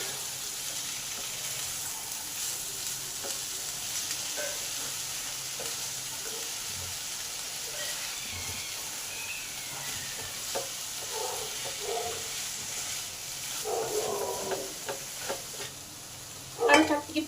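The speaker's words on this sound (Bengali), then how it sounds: "এবার সমস্ত কিছু আবার ভালোভাবে একটু নেড়ে নিই" Pumpkin curry with added sugar is stirred as it fries in a pan, a faint soft sizzle under scattered light scrapes and clinks that grow louder near the end.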